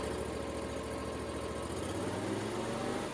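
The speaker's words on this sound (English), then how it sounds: "Start the engine and run it at top no load." A small engine runs steadily at top no-load speed while its charging system is tested, a continuous loud drone with a slight pitch shift partway through and no voices.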